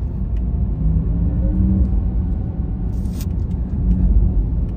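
A Porsche Taycan Turbo S sports car on the move gives a loud, steady road rumble heard from inside the cabin, unbroken throughout and with no voices.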